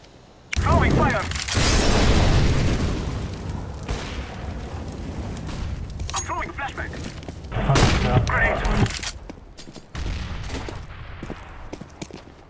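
Fiery bursts and explosive booms in Counter-Strike: Global Offensive as fire is thrown, loud near blasts rising and falling with gunfire-like crackle, a brief gap, then another swell of roaring flame.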